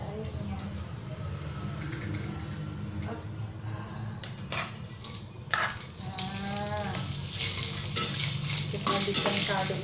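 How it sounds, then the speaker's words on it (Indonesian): Shrimp heads frying in hot cooking oil, a steady close sizzle and crackle with stirring clatter, under voices and clinking near the end. "Kita panaskan sedikit minyak goreng, kemudian kita masukkan si kepala udang."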